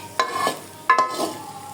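Fish frying in a clay pan, with a steady low sizzle broken by two sharp scraping stirs or turns, close and alone.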